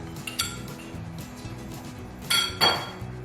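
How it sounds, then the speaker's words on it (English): A screwdriver tip pops plastic covers off towel bar mounts in a bathroom, giving a few sharp, close clicks and clinks, with two louder snaps near the end and no talk. "So we're just gonna pop each one of these off, like so."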